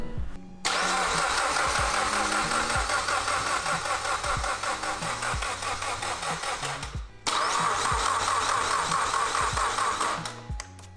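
A built Mitsubishi Evo X engine cranks and catches, then settles into a steady, loud idle. It cuts out briefly around the middle, then restarts and idles again before dropping off near the end, with no talk over it.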